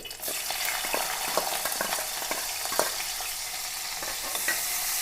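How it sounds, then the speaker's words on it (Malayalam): Spices tempering in hot oil for a shrimp and ivy gourd stir-fry, a steady close sizzle with crackling pops and occasional scraping stirs, no talking. "അപ്പോൾ നമുക്ക് ഒന്ന് താളിച്ചെടുക്കാം"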